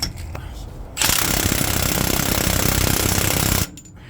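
An impact gun hammers loudly for about three seconds against the tight differential pinion nut on an MAN 8.163 horsebox rear axle, a rapid rattling burst that starts and stops abruptly, with quieter workshop sounds before and after.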